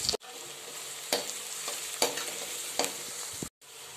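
Chopped green chillies, garlic and onion sauté in a pan with a constant close sizzle, while a spatula scrapes and knocks against the pan about once a second. The sound cuts out briefly near both ends.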